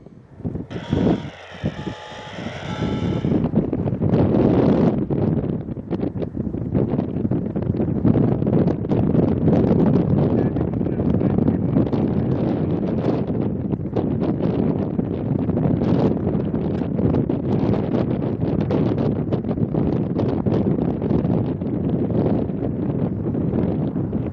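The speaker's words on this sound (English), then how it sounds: "as the wind continues to howl" Strong wind howls across a Utah mountain rail line near a siding, a loud, steady broadband roar buffeting the microphone almost continuously after a brief quieter moment at the start.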